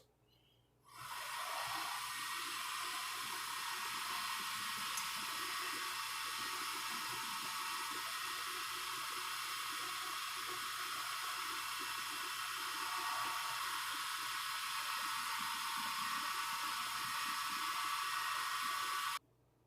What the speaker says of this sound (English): turn your lathe on to about 2000 RPM and then buff it all in